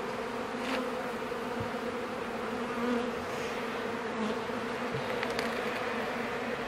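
Honeybees buzzing around an open hive during a frame inspection, a steady dense hum of many insects close by, with occasional louder passes of single bees and faint handling noises.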